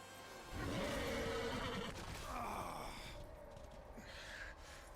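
A horse in the Darksiders video game neighs and whinnies loudly with strained, gasping breaths, a long rising-and-falling cry that fades into softer breathy sounds by the end.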